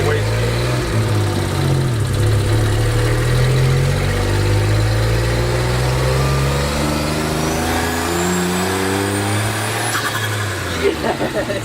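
Straight-piped BMW E36 turbo engine in a first gear pull, a loud raw exhaust note rising steadily in pitch through the revs before cutting off, with voices under the roar.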